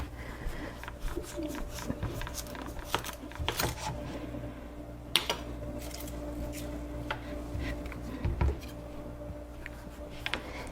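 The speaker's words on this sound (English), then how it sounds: "So I'm gonna chop all this up." A knife chops butternut squash and potato on a cutting board, with irregular, fairly quiet thuds and taps over a low background hum.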